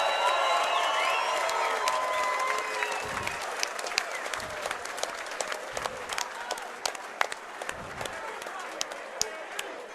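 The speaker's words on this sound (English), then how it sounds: "I think both fighters deserve a rousing round of applause from both of you." Sustained crowd applause with scattered cheers at a fight event, loud and dense at first, then thinning into sharper individual claps with a few voices calling out.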